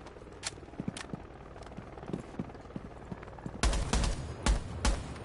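Video game gunfire plays faintly from a TV as sparse sharp shots, then a louder cluster of rapid bangs near the end, with a low background rumble throughout.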